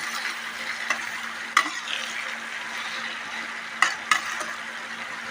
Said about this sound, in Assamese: এতিয়া অকণমান ভাজি দিয়া নিচিনা কৰিছোঁ